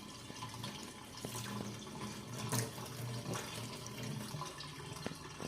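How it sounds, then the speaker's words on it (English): Water drains off a batch of soaked leafy greens in a kitchen sink, a steady close splashing trickle that runs throughout with no talk. "Just draining off the water,"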